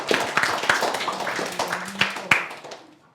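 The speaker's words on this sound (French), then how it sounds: "j'aimerais une belle main d'applaudissements pour" A small group, a school class in a television studio, claps unevenly, with scattered individual claps and a few sharp louder hits, tapering off toward the end while faint voices murmur underneath.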